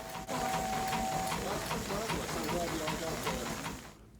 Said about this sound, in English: This is a steam-powered generator.